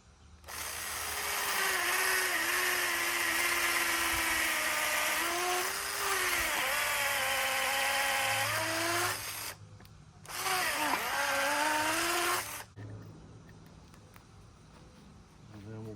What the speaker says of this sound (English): we're going to drill this all the way through